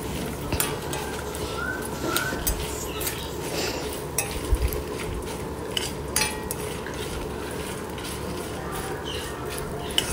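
Ingredients for bitter gourd fry, such as dry red chillies, garlic and coriander seeds, are stirred in a pan over a medium flame. A utensil scrapes and clinks against the pan in irregular strokes over a low, steady background.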